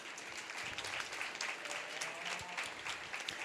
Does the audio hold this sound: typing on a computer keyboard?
no